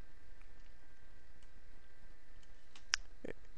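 Quiet computer mouse clicks, faint ticks early on, then a single sharper click near the end, all close and alone in a hushed room.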